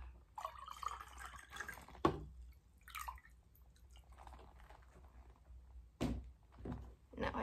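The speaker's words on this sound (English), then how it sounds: "No, I just sprayed your hair with some water." A spray bottle spritzes water onto hair during a close-up haircut roleplay: two sharp hissing bursts several seconds apart over quiet handling noises and soft speech.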